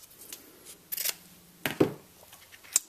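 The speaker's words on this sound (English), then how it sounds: "I'm just going to cut this side to an angle." Scissors snipping through clear acetate sheet for a card window, a few sharp separate cuts spaced out over near silence, close by.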